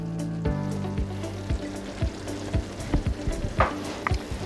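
Cooking mixture with water and a handful of cilantro is stirred in a pot, giving soft wet scraping strokes and clinks over a low simmer, close and fairly quiet.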